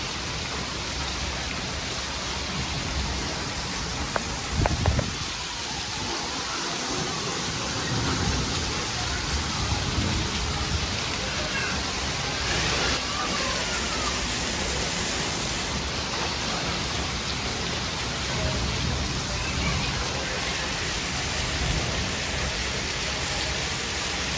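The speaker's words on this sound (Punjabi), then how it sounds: "ਕੀ ਬਾਤ ਹੈ ਕੀ ਬਾਰਿਸ਼ ਹੋ ਰਹੀ ਹੈ" Heavy rain pours steadily throughout, a dense continuous hiss of drops with faint sounds beneath.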